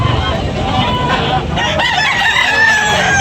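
Young roosters crowing at a live poultry market in Tabunok, Talisay, Cebu, a loud nearby crow rising over busy crowd murmur and background clucking.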